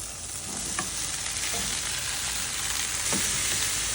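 Chopped chayote sizzles in a hot pan as it is sautéed, with a steady frying hiss and a few soft scrapes of a ladle stirring it.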